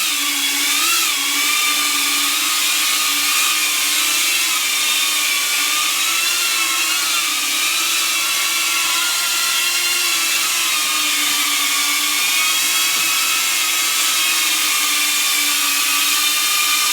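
A Cetus X FPV drone lifts off and hovers nearby, giving a loud, continuous high-pitched propeller whine with small wavering changes in pitch as the throttle shifts, steady throughout with no talking.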